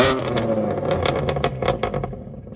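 A decatted BMW M2 Competition with VRSF downpipes and a full VRSF rear exhaust revs hard with a loud, raspy drone. Sharp crackles and pops are scattered through the note and trail off as it settles.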